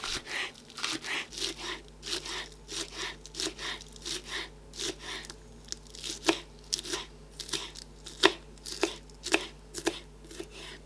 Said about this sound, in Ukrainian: Беремо кілька пір'їв молодої зеленої цибулі Дрібно нарізаємо